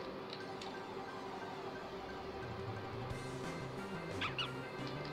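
Lillipup, a small puppy Pokémon, lets out its cry in a video game: brief yipping, whimpering dog-like calls near the end, over a steady background of game music and ambience.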